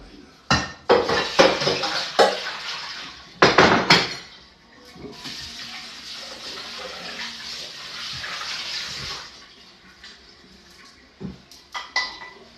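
Tomatoes rinsed in a kitchen with clattering dish and water sounds: bursts of splashing and clinking at the start, a steady running-tap stretch in the middle, then a few sharper knocks near the end.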